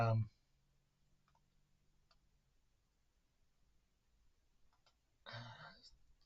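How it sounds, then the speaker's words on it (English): A four-sided die rolled on a surface gives a brief, clattering burst of clicks near the end, after a quiet stretch with only a faint low hum. "you heard the dice"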